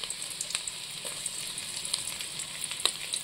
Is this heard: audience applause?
no